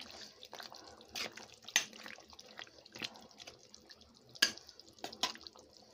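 Country chicken curry simmering in a pot on low flame, heard as faint, scattered bubbling pops and soft drip-like plops against a quiet background, with no voices.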